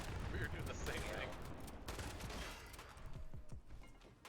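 Gunfire in the Fallout 76 video game, rapid dense bursts of shots rolling continuously and fairly loud, with a voice talking faintly in the background.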